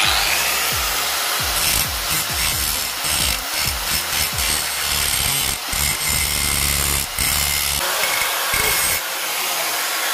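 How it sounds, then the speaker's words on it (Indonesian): An angle grinder works around a worn, chiseled wheel bolt on a Mitsubishi Canter HDL truck, a loud continuous grinding and scraping that rises and falls with the tool's pressure, with no one talking. "Jadi ini kita greda kelilingnya dulu"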